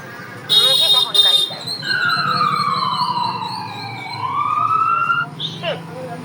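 A talking book plays a wailing ambulance siren that sweeps slowly up and down, loud and close, after two short electronic beeps.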